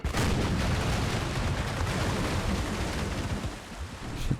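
Volleyed cannon fire from a sailing warship's broadside in Empire: Total War, a dense, sustained rolling barrage of booming shots that stays loud throughout with a final burst near the end.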